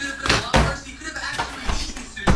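Several sharp knocks and thuds like a door closing or bumping sound in quick succession, fairly close, with faint voices around them.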